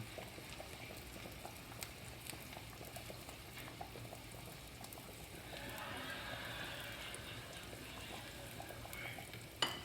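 Onions frying in hot oil for a South Indian chicken curry, a steady low sizzle and crackle throughout that swells into a brighter, denser hiss partway through as the wet onions spatter, with no talk.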